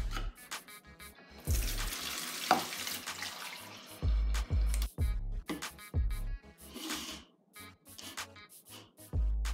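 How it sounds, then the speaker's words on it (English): Cool tap water and then boiling water from a kettle poured into a small plastic container, heard as close, intermittent splashing bursts with a steady trickling stretch and thumps between pours. "half filling a small plastic container with cool water from a tap and then topping it up the rest of the way with boiling water from a kettle"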